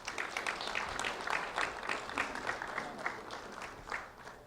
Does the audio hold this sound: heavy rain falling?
no